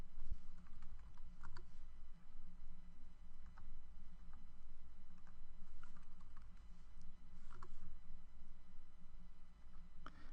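Rapid computer keyboard typing while renaming entity fields in Entity Framework, a dense run of light clicks and key taps that goes on steadily, quiet and close, with no speech.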